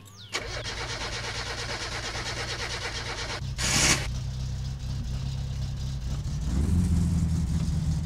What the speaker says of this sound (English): pull the choke, which is right over here, all the way out, and start the car